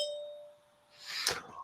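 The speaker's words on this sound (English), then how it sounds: "I have a bell, which I will ding when your time is up." A timekeeper's bell at a virtual candidate forum for a county commission at-large seat, struck once, giving a single bright ring that fades within half a second, fairly quiet and with no voices.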